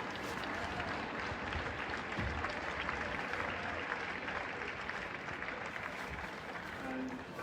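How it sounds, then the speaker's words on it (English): Applause for Castletown at a Gaelic football final fills the air: a sustained, dense crowd clapping that carries on evenly throughout. "the round of applause there for Castletown"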